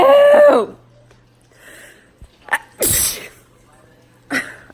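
A brief spoken voice at the start, then close-up sneezing triggered with a Q-tip: a small catch of breath followed by a loud, forceful sneeze near the mic, and a lighter second burst of breath near the end.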